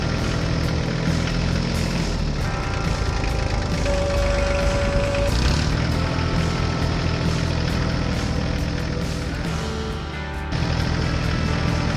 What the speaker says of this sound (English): The tractor moved across the farm toward the field where a smaller tractor was stuck.